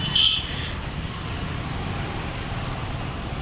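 Road traffic crosses a bridge over the Ganga as a continuous broad roar of passing vehicles. A brief louder whine comes near the start, and a faint high tone appears toward the end.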